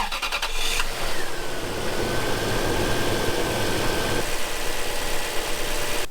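Toyota Landcruiser engine starting and then idling steadily after a spark plug change, a close, even mid-pitched rumble that holds smoothly for several seconds.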